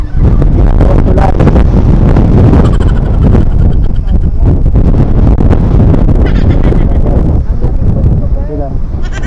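Strong wind buffets the microphone with constant loud rumbling roar throughout, with some voices faintly mixed into the blustery noise, near a ship on the water.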